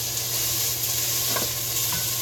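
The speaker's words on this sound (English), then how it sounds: "I'm going to start breaking it apart in pieces and then flipping it around" Ground beef, still partly frozen in the middle, sizzles steadily in a frying pan as it is broken apart and flipped, with a few soft scraping knocks from the utensil partway through and no voices.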